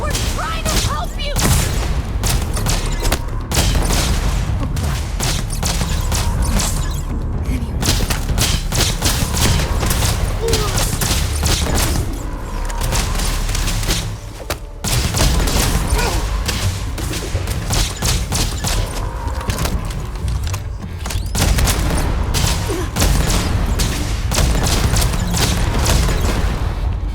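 Gunfire in the video game Starfield, including an EM rifle, fired in dense volleys of sharp shots and booms that keep going almost without a break, with brief pauses and voices mixed in.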